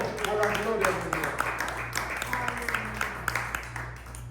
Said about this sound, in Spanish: Denle un fuerte aplauso a la gloria de Dios.